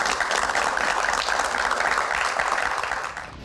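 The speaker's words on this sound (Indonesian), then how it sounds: "Tepuk tangan." Audience applause fills a Q&A talk session, a dense, steady wash of clapping that holds evenly for a few seconds before tapering off near the end.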